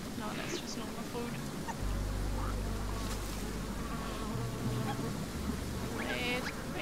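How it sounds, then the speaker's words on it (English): Flies buzz steadily in the game Shelter, a continuous insect drone over a low ambient hum with a few faint chirps and no talking. "Wait, I hear flies."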